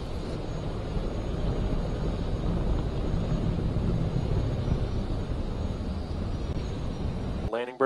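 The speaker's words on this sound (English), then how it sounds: "Landing burn has started." A Falcon 9 rocket engine roars during its landing burn, a steady, heavy rumble that holds throughout and cuts off abruptly at the end.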